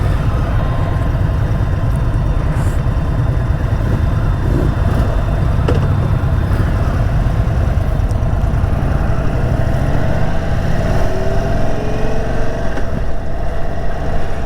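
An Indian Super Chief motorcycle is ridden, its engine a steady loud low rumble that rises in pitch partway through as it accelerates, mixed with road and wind noise and no voices.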